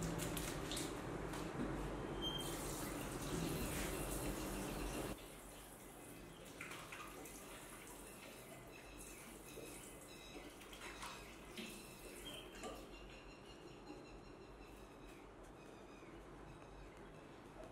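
Tap water runs as hair dye is rinsed out with regular soap, a soft splashing stream that is fuller at first, then quieter with wet squishing and small drips, faint and distant.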